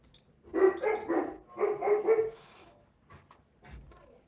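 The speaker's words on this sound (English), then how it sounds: "The dogs are getting riled up." Dogs bark excitedly in two quick, loud bursts of several barks each, followed by softer, scattered yips.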